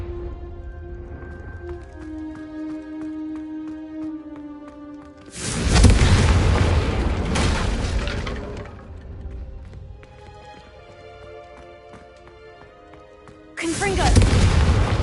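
Confringo fire spells in Hogwarts Legacy burst as two loud, booming blasts, one sustained for a couple of seconds and another near the end, over orchestral game music.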